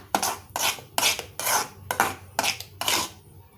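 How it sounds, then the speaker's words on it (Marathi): Cocoa powder is beaten into chocolate cake batter in a bowl with seven rhythmic, scraping strokes of a whisk or spoon against the dish, each a bright metallic rasp, close and evenly spaced, with no talking. "पुन्हा छान मिक्स करून घ्यायचे आपल्याला."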